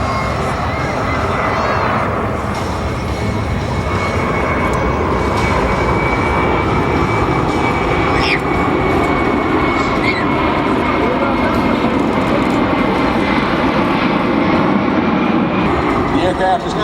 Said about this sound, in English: The aircraft is now performing a go-around maneuver using maximum power